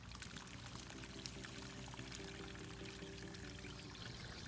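Water pours steadily through an air-conditioning unit's condensate drain pipe as a clog is flushed, a continuous low rushing stream heard faintly and evenly, with no talking.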